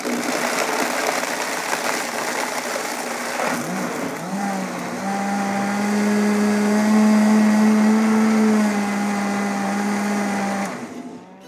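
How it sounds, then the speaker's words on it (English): A kitchen blender runs with fruit and orange juice inside, a loud steady motor whine that rises in pitch as the contents smooth out, then cuts off at the end, with no talking over it. "Put that here on the blender. Just put the lid on top and we'll blend it up."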